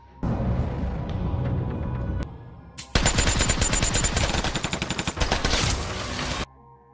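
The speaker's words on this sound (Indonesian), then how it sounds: "Saat sedang santuy bersama Ellie, tiba-tiba muncul 3 pria melepaskan tembakan secara membabi buta" Bursts of rapid automatic gunfire ring out as three men shoot wildly in a mafia action film: one long rattling volley, a short pause, then a second, denser burst of close, loud shots.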